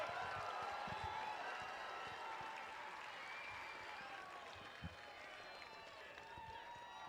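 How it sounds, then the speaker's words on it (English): Audience applause for a military band's brass section at a live family day event, a steady wash of crowd clapping that holds for several seconds at an even level, with faint voices mixed in. "have a big round of applause for the brass section of the ACOR"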